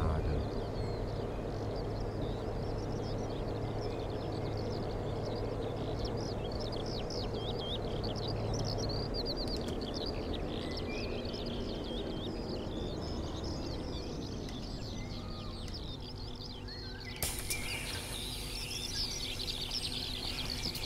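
Birds chirp and tweet continuously at moderate volume in the OMSI 2 bus simulator, a busy overlapping chorus of calls above a low hum from a MAN Lion's City bus.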